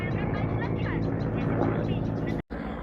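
An airplane engine drones overhead with a steady, humming tone, its pitch shifting slightly as it passes, while people talk nearby.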